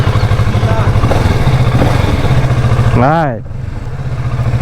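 An old motorcycle's engine runs steadily during a ride, a loud, close, throbbing mid-pitched putter that dips briefly before picking up again, with someone speaking over it.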